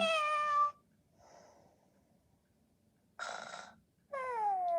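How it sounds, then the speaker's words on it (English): A robotic interactive plush cat toy gives short electronic meows with a faint, breathy, snore-like sleeping noise between them, separated by quiet gaps and heard close with no talk. "when you put it on its side, it'll go to sleep, make sleeping noises and move its tail"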